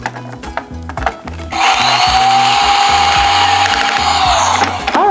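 A power drill drives screws into a toy monster truck, first with short bursts and then one steady whirring run of about three seconds, close and loud over a rhythmic music bed.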